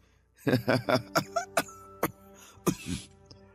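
An elderly man coughs in a close, harsh burst of several rapid coughs, then pauses and gives a few more throaty coughs, with no talk over them.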